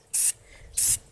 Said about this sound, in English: You don't want to spray real heavy.